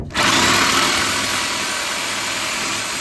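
An angle grinder with a cutoff wheel, used to cut exhaust manifold bolts on a Ford F-150 engine, starts up abruptly and runs with a loud, steady high-pitched whine, close by, sustained without pause.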